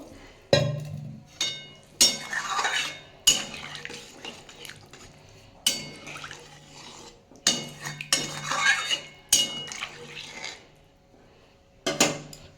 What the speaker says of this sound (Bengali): আমি এটা সেদ্ধ হওয়ার জন্য দশ মিনিটের জন্য চাপা দিয়ে দিলাম